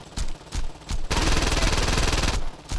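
Video game gunfire in GTA: a few separate single shots, then a loud, continuous automatic burst lasting over a second, then one more shot at the end, with no talking.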